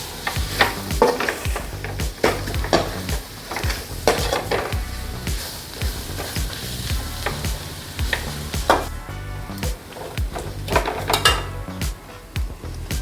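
Marinated chicken masala sizzling in a pan for a Kerala catering-style chicken roast, stirred with a metal spoon that clanks and scrapes against the vessel in busy, irregular bursts over a constant frying hiss, close up and with no talking.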